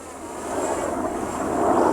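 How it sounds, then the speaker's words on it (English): A Firehawk helicopter passes overhead in the background during a possible brush fire, a distant, muffled rotor drone that swells slightly louder toward the end. "I don't know if you can hear the chopper in the background."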